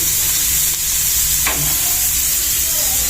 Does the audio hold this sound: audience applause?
no